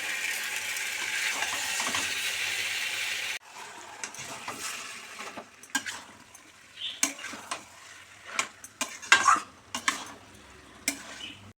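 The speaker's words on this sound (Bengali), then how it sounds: "এঁচোড়টা জল দিয়ে দিয়ে ভালো করে মাংসর মতো কষতে হবে" Young jackfruit stir-fried in a pan with splashes of water: a steady broadband sizzle for the first few seconds, then quieter scraping and stirring clatter with irregular louder knocks.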